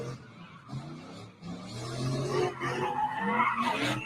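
A loud modified twin-turbo, non-street-legal truck engine revs with rising, harmonic pitch and tire-like squeal, building in intensity toward the end, heard alone at moderate distance.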